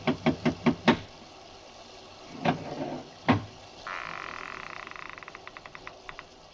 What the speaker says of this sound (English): I lifted the bronze idol and rapped on the door with it